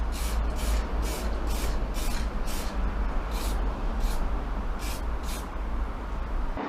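A spray gun lays paint coats on a VW T5 van, giving repeated hissing bursts in a steady rhythm of short passes over a constant low hum, close and moderately loud.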